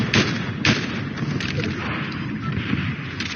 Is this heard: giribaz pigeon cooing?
no